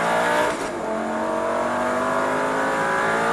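A race car engine roars steadily at full throttle on a track during a driving course, loud and close, holding a high sustained drone with a brief dip near the start.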